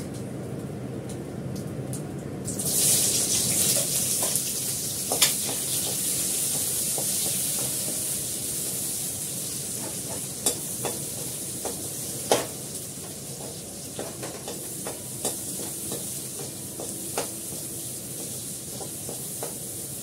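Onions hit hot oil with a sudden loud sizzle, then settle into a steady frying hiss with occasional sharp crackles and stirring clinks throughout.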